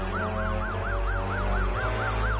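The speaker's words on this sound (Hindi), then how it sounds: "गुरु, एम्बुलेंस आ रही है" A cartoon ambulance siren wails in a steady, repeating two-tone rise and fall, loud and close, sounding alone without any talk over it.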